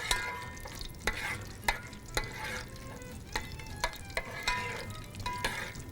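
Whole garam masala of star anise, cinnamon and green cardamom fries in ghee in a pan, a steady close sizzle broken by regular clicks and scrapes of a stirring spoon.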